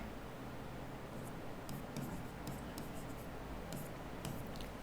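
A pen writes in black ink on paper, with short scratchy strokes coming in quick clusters over a low background hiss, close up and faint.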